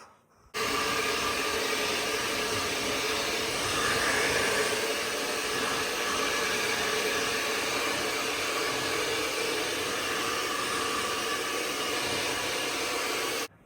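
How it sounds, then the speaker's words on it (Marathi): A hair dryer blowing on someone's hair at home, a steady loud whooshing hum that switches on after a moment and runs evenly until it cuts off at the end. "आता मी पटकन ड्रायर मारते केसांना"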